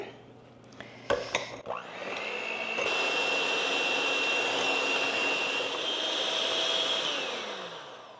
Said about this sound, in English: Gradually beat the sugar into the egg yolks and continue beating until the mixture thickens to form the ribbon.